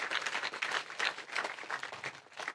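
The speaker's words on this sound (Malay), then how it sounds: "InsyaAllah berikan tepukan kepada mereka semua" Sustained applause from a gathered audience at a Malaysian event, dense steady clapping that fills the room for the whole stretch with no speech over it.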